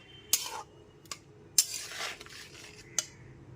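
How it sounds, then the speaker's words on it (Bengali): A spoon stirs salt and sugar into a low-oil vegetarian papaya curry with lentil dumplings in a pot, giving a few sharp metallic clinks and soft scraping swirls, close and fairly quiet. "লবণ আর চিনিটা খুব ভালো মতো মিশিয়ে নিচ্ছি"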